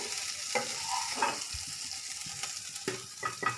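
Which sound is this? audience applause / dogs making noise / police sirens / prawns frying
prawns frying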